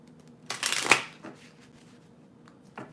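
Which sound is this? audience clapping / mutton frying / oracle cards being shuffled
oracle cards being shuffled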